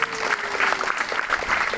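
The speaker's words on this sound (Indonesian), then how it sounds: "Tepuk tangan buat para guru" A school crowd claps for the teachers at an Indonesian high school event, SMA Negeri 6 Kupang, a brief burst of dense, steady applause.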